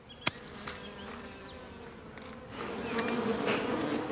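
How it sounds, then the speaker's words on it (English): A steady hum of bees buzzing around, fairly quiet and close, with one sharp click near the start and the drone swelling toward the end. "Bees aren't interested in harming you."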